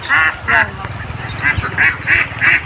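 Ducks on a free-range duck farm quack loudly nearby in repeated nasal bursts, several calls in quick succession with short pauses, over low background murmur.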